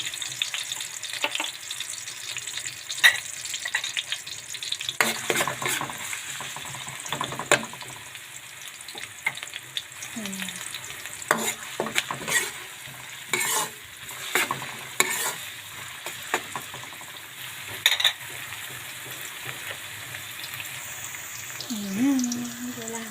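Garlic frying and being stirred in a pan for a squid dish, a steady broadband sizzle with repeated scraping stirs and some water sounds, close and continuous, with brief talk near the end.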